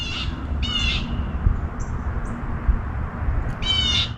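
Crows cawing near an old truck last tagged in 2005: three harsh, nasal caws, two close together at the start and one at the end, fairly near and loud over a low outdoor rumble.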